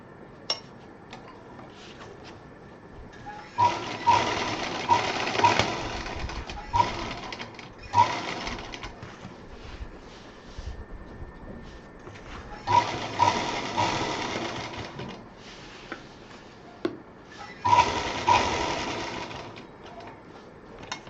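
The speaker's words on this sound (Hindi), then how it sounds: "ये जो लाइन है इसके अंदर की तरफ सिलाई करें।" A sewing machine stitches along a seam line on a handmade travel bag, running in three or four separate bursts of rapid mechanical whirring with quiet pauses between them.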